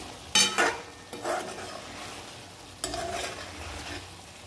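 Chicken being stirred in a pan before making biryani: a few scraping, clattering stirs over a continuous sizzle, close by, with no talk.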